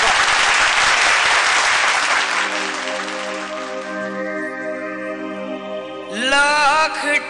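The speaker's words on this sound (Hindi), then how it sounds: "जोरदार तालियां रोहित के लिए" Loud studio-audience applause on a Sa Re Ga Ma Pa singing competition TV show fills the first seconds, then thins as music tones rise beneath it, with a brief bright swell of sound near the end.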